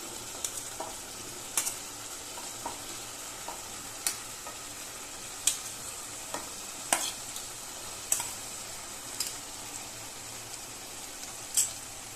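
Boiled corn kernels tossed into a capsicum curry in a pan, with soft stirring scrapes and light sizzling crackle under a steady faint hiss, and sharper utensil clicks every second or so, no talking.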